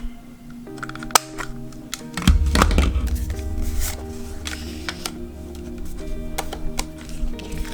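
A 1.5 inch corner rounder circle punch notching paper, a sharp snap followed by a low clunk of the punch, then soft rustling and light tapping, close and under no talk.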